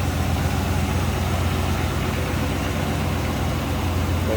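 A 1966 Chevrolet Impala SS two-door hardtop idles steadily, its engine giving a low, even rumble that holds close and constant throughout.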